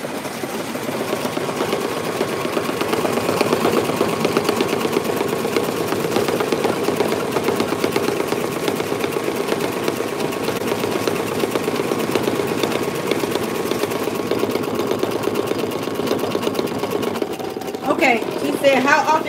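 An embroidery machine stitching a patch, running as a continuous fast needle whir with a steady mechanical buzz for the whole stretch and a few clicks near the end, while someone talks over it.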